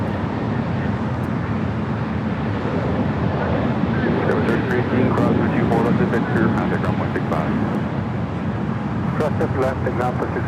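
A Delta jet at Los Angeles LAX airport roars steadily for the whole stretch, a broad, loud rumble with wind buffeting the microphone, while a voice talks over it.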